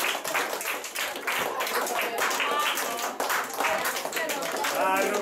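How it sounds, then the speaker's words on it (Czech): Indoor audience applauding to welcome a local mountain rescue member, steady clapping from a crowd mixed with talking voices. "Tak, pořádným potleskem ho přivítejte."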